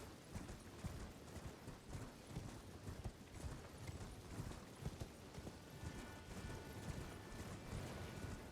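Horse hooves clip-clop steadily in the Elden Ring: Shadow of the Erdtree video game, a continuous rhythmic patter over dense background game noise with a faint tonal hum near the end.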